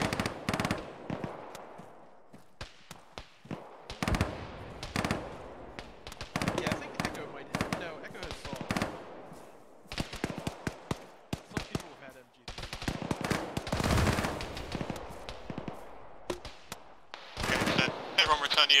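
MG3 machine gun firing in a military video game, rapid bursts of loud gunfire repeating across the whole stretch, some long sustained strings and some short volleys, with quiet gaps between.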